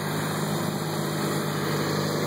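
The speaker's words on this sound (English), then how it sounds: "let that tractor get away" A John Deere tractor engine running at a plow day in Alabama, a steady droning hum with a constant whine that holds throughout, no voices.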